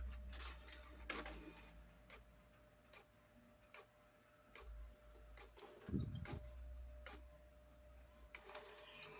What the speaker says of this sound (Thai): ดูพิมพ์อีกแผ่นนะครับผม